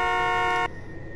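A steady, loud train horn blast in the video game Emergency Hamburg holds for under a second, then cuts off, leaving a low rumble behind it.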